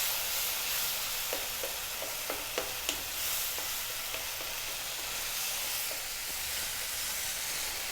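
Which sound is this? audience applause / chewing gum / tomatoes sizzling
tomatoes sizzling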